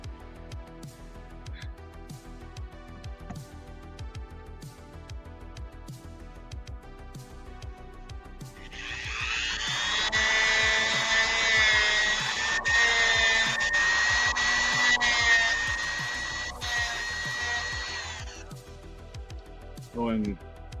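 A Dremel rotary tool whines steadily for roughly ten seconds while working on an action figure, and a person talks before, during and after the grinding.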